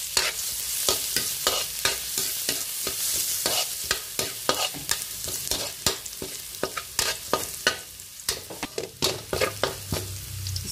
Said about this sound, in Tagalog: Una, lagay natin ang luya. Tapos, igisa na natin ang bawang.